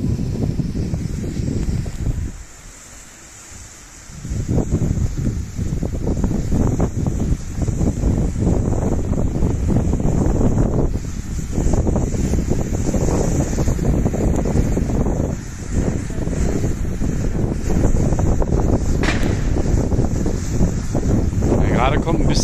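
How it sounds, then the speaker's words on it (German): Strong wind buffets the microphone in a continuous loud roar with gusty surges, likely near open water, briefly easing once early on before returning; a person speaks at points within it. "Ja, gerade kommt ein bisschen heftiger Wind, aber sollte noch gehen."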